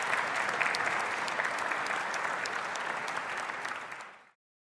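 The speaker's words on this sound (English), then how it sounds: "So let's give Angela a round of applause." A church congregation applauds, with sustained dense clapping from many hands at a fairly close, even level that fades out at the end.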